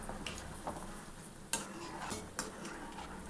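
A healthy homemade snack made with milk and butter frying in a pan and turned with a spoon: a steady sizzle with a couple of sharp utensil clinks against the pan, no talking.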